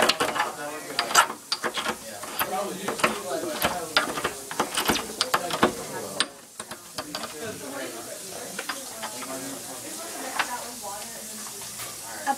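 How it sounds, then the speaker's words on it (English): Rock salt being ground in a mortar with a pestle, a close series of sharp crunching, grating strokes in an irregular rhythm, growing softer and finer toward the end. "Here is how you grind rock salt with a pestle."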